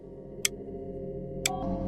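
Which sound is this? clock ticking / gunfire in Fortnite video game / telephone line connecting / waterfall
clock ticking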